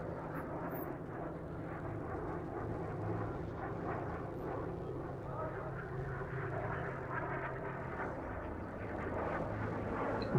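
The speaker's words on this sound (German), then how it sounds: "Da fliegt eine Esre-Drohne." Drone flying overhead in a military video game, a continuous droning engine hum that holds steady and swells slightly toward the end, moderately distant.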